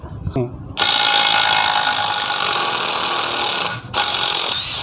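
A DeWalt DCF801 impact screwdriver loosens a nut, a loud continuous high-pitched whir with a brief break, preceded by a few clicks and a voice.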